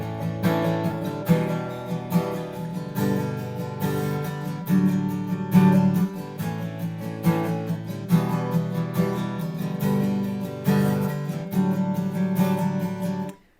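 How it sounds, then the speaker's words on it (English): An acoustic guitar with Elixir strings plays gentle down-up eighth-note strumming on a song, a soft, steady rhythm of ringing chords with warm low sustain, close and unaccompanied by talk, fading out at the end. "With the right hand, we're just going to do a really gentle down-up 8th note strumming."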